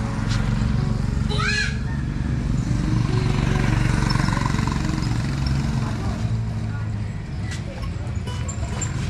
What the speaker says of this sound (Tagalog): Tinesting ni Kuya yung motor ko.